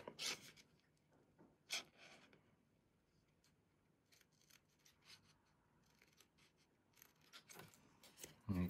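Quiet scissor snips cutting paper cardstock for a pop-up card holder, a few sharp cuts separated by soft rustling handling noise, close and faint.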